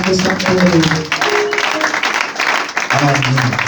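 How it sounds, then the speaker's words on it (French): A church congregation at a Sunday worship service applauds and cheers loudly and continuously, with voices and singing-like tones mixed into the noisy clapping throughout. "Donne-moi une acclamation pour le Seigneur."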